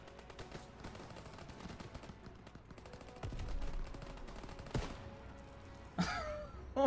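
Gunfire in Call of Duty: WWII, a series of sharp, close shots and short bursts scattered across the clip with a louder blast near the end, heard without speech.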